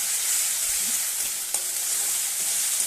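Spice paste of onion, ginger, garlic, dried chili, pepper, salt and turmeric sautéing in a pan, giving a loud, continuous sizzle with a few soft stirring knocks and no voices.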